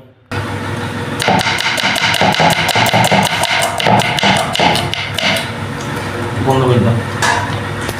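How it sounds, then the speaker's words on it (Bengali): An onion being chopped with a knife for a chicken curry gives rapid, close, loud knocks on a board in quick bursts, over a steady hum from a fan or air conditioner. "পেঁয়াজ কেটে নেবো আমি"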